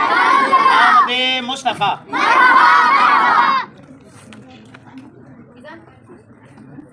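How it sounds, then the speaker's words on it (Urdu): Crowd of children at a celebration of the Prophet's birth (Seerat-e-Mustafa) loudly chanting religious slogans in unison, two strong bursts of massed young voices, then quieter room murmur. "آپ بھی ان کا استقبال کریں نا نعرے سے"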